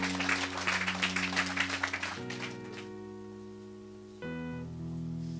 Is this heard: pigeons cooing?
no